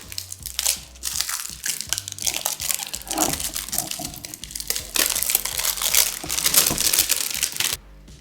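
Packaging for a Samsung Galaxy Tab S6 Lite 2022 tablet is opened up close, with loud crinkling plastic and rustling, crunching wrap in irregular bursts, no talking.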